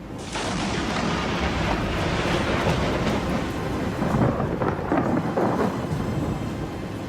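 Thunder from a lightning strike rolls in a long, loud rumbling roar, continuous and heavy from start to finish with no voices.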